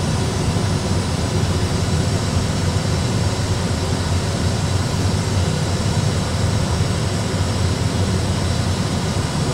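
An Airbus A320 climbs toward flight level 210, heard from inside the cockpit as a constant loud roar of jet engines and airflow, unbroken and even in level.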